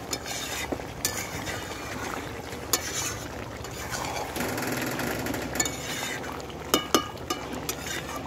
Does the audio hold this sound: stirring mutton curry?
yes